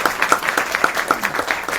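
An audience at an evening Hindi religious gathering in Delhi claps loudly, a dense, steady applause of many hands sustained throughout.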